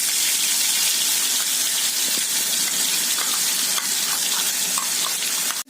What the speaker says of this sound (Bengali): তেলটা একদম গরম হয়ে গেছে। এবার আমি এটার মধ্যে দিয়ে দেবো পেঁয়াজ বাটা।